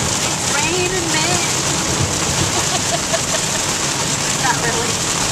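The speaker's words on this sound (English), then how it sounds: "It's raining hard." Steady heavy rain hisses loudly and continuously, with a faint voice murmuring underneath the downpour.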